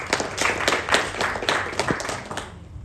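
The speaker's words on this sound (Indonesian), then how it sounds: "Tepuk tangan untuk kita semuanya lagi." A crowd applauds with steady, dense clapping for a few seconds, then the applause tapers off at the end.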